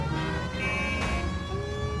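A police car siren wails inside the LA Noire video game, a steady loud tone with harmonics holding throughout, mixed over game engine and traffic noise.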